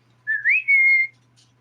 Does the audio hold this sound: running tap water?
no